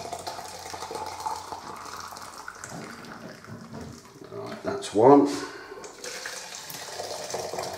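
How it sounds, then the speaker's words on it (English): Boiling water pours and splashes into tins, about 1 litre each, in a short burst midway, with a person talking before and after. "I'm going to fill both of these up with boiling up water."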